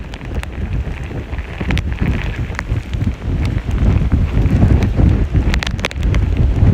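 Strong hurricane wind during Hurricane Ian's landfall, a loud, continuous roar buffeting the microphone in heavy gusts that build louder toward the end, with rushing debris-like noise.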